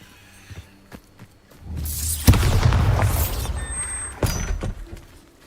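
A Bombarda blasting spell goes off in Hogwarts Legacy, a single loud booming explosion that rolls into a sustained rumble with crackling debris, followed by a few scattered thuds and footsteps.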